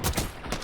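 A quick, close burst of rapid gunfire in a Call of Duty league esports match, two or three loud overlapping shots within a fraction of a second.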